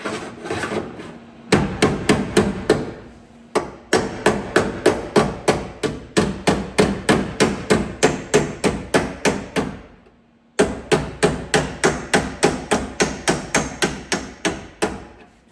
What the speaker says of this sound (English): get your hammer and dolly and follow this line around.